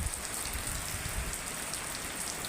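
Steady rain falls on a surface during a rural downpour at sowing time, a dense continuous hiss with fine pattering drops, fairly close and even throughout, with no voices.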